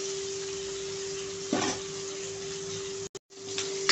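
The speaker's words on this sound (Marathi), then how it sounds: "हे पहा, आपले कांदा टोमॅटो छान असे फ्राय झालेले आहेत" Onions and tomatoes fry in a pan with a steady, close sizzling hiss over a low electric hum, briefly louder during a quick stir, then cut off for a moment before resuming.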